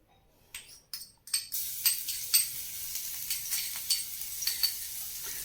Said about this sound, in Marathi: आता आपलं तेल तापलेलं आहे, तर आपण पहिल्यांदा त्यात लसूण घालून घ्यायचं आहे.